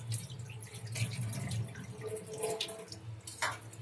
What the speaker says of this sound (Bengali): এবার ভালো করে ডালটা ধুয়ে নেব